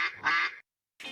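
A duck quack sound effect in an advert, two quick nasal quacks, a pause, then a third, clear and close with nothing else around it.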